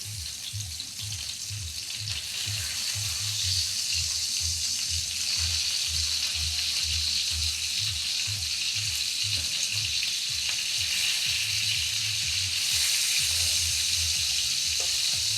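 Bacon frying in a pan, a steady loud sizzle and crackle running throughout, with a low rhythmic hum pulsing beneath it.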